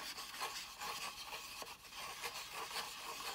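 Fabric dye being stirred with warm water in a paper cup, a steady close scraping and rubbing with slight rhythmic swirls, continuous and fairly quiet with no talking.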